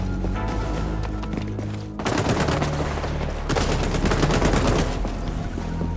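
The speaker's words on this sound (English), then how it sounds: "Where did that shot came from?" Rapid gunfire in the XDefiant shooter game, dense bursts of automatic shots over a steady game soundscape, growing louder and heavier after two seconds and again past three and a half seconds, no voices.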